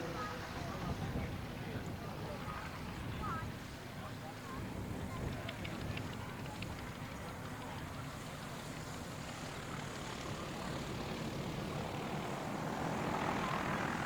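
A vintage propeller biplane with silver, red and white markings, a former Darlington and District Aero Club machine, drones steadily overhead at an evening air display at Shuttleworth, a continuous engine roar with a voice talking over it.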